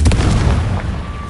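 The Confringo explosive spell cast in Hogwarts Legacy, a loud booming burst with a deep rumbling impact that fades over about a second, heard alone without talk.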